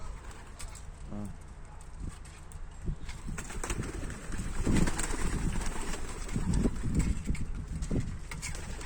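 Young pigeons cooing softly in a loft amid constant background noise, with low murmuring coos and occasional rustling or flapping.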